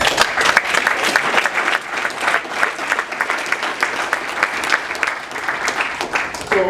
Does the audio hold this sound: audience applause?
yes